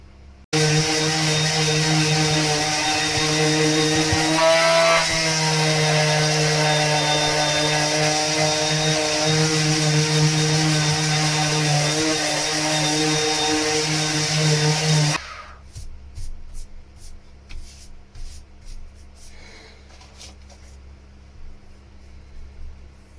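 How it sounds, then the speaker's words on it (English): A power sander drones steadily and loudly for a long stretch, sanding fairing on a boat, its pitch wavering slightly, then shuts off to quieter scraping and handling noises. "I can start sanding on the rest of it"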